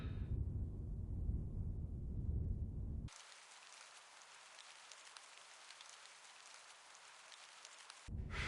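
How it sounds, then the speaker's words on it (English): Steady rain falling in England, a dense, even patter that starts abruptly after a few seconds of low rumbling and keeps up, close and moderately loud, until it cuts back to the rumble at the very end. "Why does it always rain in England?"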